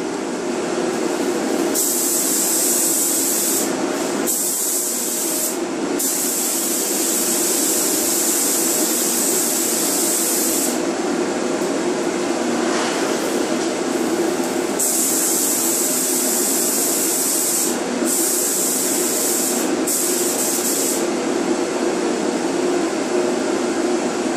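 Spray gun applying a second coat of paint to a 2007 Honda Accord bumper: a loud, steady hiss that runs almost continuously, broken by a few short pauses between passes.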